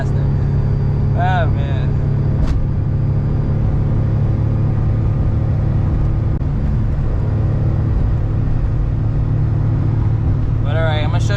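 A Mitsubishi Bravo kei van with the pedal floored in fifth gear climbs uphill on a New York City street, its engine droning loud and steady inside the cabin, while a driver speaks briefly near the start.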